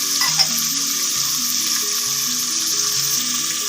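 Two finely chopped green chillies sizzle and fry steadily in hot oil, a constant close crackle with faint stirring and no talking.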